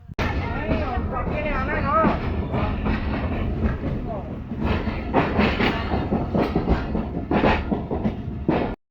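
The Rehman Baba Express rolls along the tracks in Pakistan, a continuous rumble with rhythmic clickety-clack of wheels over rail joints, while people talk nearby in the carriage.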